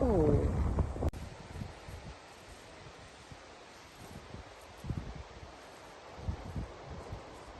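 Wind blows across an open cranberry field, gusting and buffeting the microphone in low rumbling bursts, with leaves rustling; a brief voice opens the clip before the wind continues alone.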